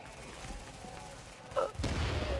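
Burst of gunfire and explosive blasts from a shooter video game, The Division, erupting loudly near the end after a quieter stretch of game noise and faint voices.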